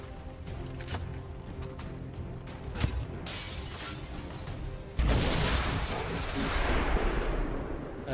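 An XCOM 2 grenade blast: a sudden loud burst of explosive noise, then a long rumbling debris tail, after a stretch of quieter ambient game sound.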